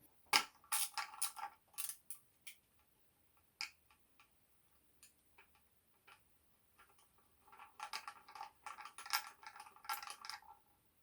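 A quarter-inch drive ratchet turning a bolt out of a BMW N52 engine, quick bursts of fine clicking near the start and again near the end, with isolated single ticks between.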